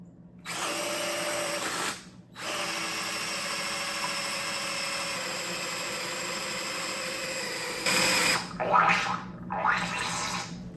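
A power drill, smoking as it works during a Triumph TR6 engine rebuild, whirs loudly and steadily for several seconds, cutting out briefly, then revving in uneven bursts near the end.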